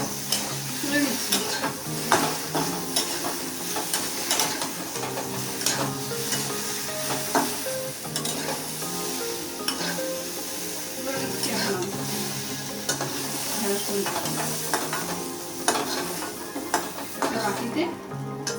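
Sliced okra fries in hot oil in a pan, a steady sizzle running throughout as a spoon scrapes and stirs with repeated clinks and taps while the pieces are lifted out.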